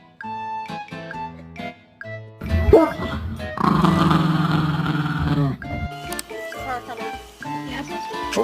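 Dog howls a drawn-out woo on request, a sustained wavering cry in the middle, with a person coaxing it in an encouraging voice before and after.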